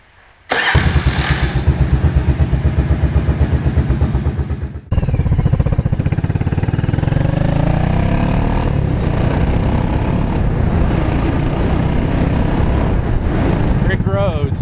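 1983 Yamaha Virago 750 Midnight Special motorcycle engine cranking to life, loud and close, briefly cutting out, then restarting and settling into a steady, throbbing idle with a few throttle blips.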